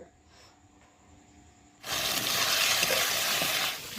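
Spice paste with salt frying and being stirred in a pan for a mutton curry: quiet at first, then a sudden, steady loud sizzle and hiss that bursts in partway through and continues close up to the end.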